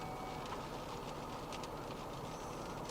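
A CSX freight train creeping slowly through deep snow during a Buffalo blizzard, a faint, steady low rumble with light wheel noise and no voices.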